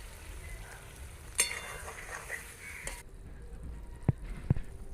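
A cauliflower and potato stir-fry sizzles steadily in a pan with a sharp hiss as a little water is added, followed by faint clinks from a spoon and a quieter simmering sizzle.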